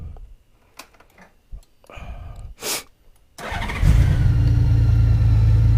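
A Honda Goldwing motorcycle with a newly installed dual battery setup cranks with a few clicks and a short whirring burst, then fires up into a loud, steady close idle hum.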